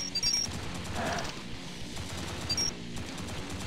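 Rapid gunfire in the arcade video game Arcade Paradise, a continuous stream of sharp, evenly spaced shots with electronic game tones layered over it, loud and close.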